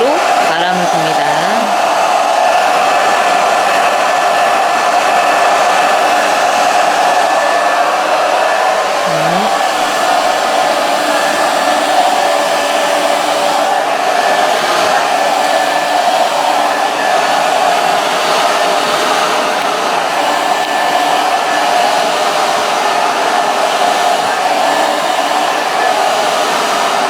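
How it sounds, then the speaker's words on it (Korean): A hair dryer blows steadily while a spaniel in-curl hairstyle is blow-dried for a hairdressing exam, a loud, constant whooshing roar that continues unbroken with no speech over it. "말고 난 후에 드라이기 등으로 바람을 줍니다."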